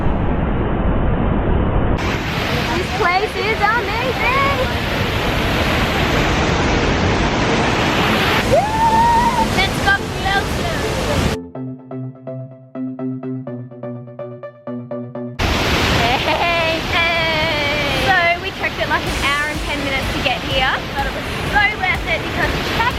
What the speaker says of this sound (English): check out that beautiful waterfall